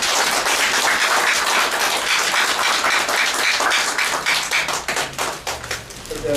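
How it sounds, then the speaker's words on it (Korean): Audience applause at an inauguration ceremony for a new foundation chairman, dense steady clapping from a crowd holding loud and even before thinning slightly toward the end. "그동안의 노고에 대해서 우리 경례의 박수를 부탁드립니다"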